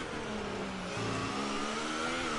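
Racing video game car from an ERL sim league race at the Australian GP, its engine droning steadily then jumping in pitch as it revs up, loud and continuous with no other sounds.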